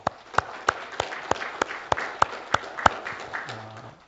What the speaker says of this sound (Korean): 우리 하나님 앞에 영광의 박수 한번 돌립시다